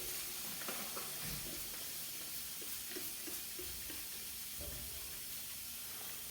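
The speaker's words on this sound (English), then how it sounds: "it looks like I've got little air leaking out onto the cap seal here" A steady, faint hiss of air leaking out at a cap seal runs throughout with a few soft clicks and taps, no voices.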